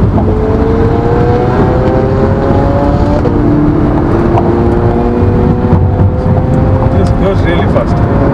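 A Hyundai Kona electric car accelerates hard on a test drive in Bangalore, with a steady loud road and cabin roar and rising whine tones heard from inside.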